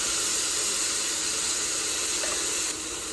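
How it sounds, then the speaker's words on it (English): Marinated mezcal shrimp hit a hot pan with a loud, steady broadband sizzle and hiss, close and unbroken, easing slightly near the end. "We have our marinated mezcal shrimp. So we're just gonna toss those in there."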